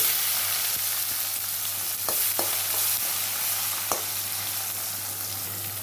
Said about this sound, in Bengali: পেঁয়াজটাকে আমি খুব ভালো করে লাল লাল করে ভেজে নেবো একদমই তো কাঁচা না থাকে